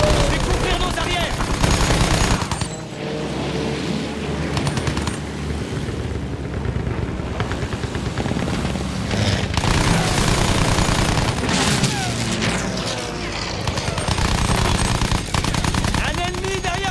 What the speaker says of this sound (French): Ça tire.